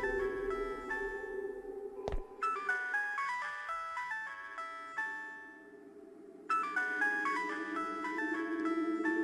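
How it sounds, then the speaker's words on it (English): A mobile phone plays a bright, repeating melodic ringtone, pausing once with a sharp knock before the jingle resumes, heard alone at moderate volume. "Where's that mobile sound coming from?"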